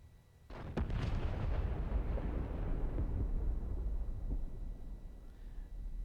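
Artillery in the DCS World combat game fires with a sudden heavy boom, followed by a long rolling rumble that lingers for several seconds at high volume, with no voices.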